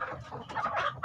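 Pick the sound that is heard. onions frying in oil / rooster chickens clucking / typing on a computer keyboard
rooster chickens clucking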